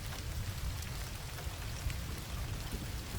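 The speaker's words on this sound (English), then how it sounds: "When the rain began to fall that afternoon" Heavy rain falls steadily and evenly, a dense continuous hiss of drops with no voices or other sounds.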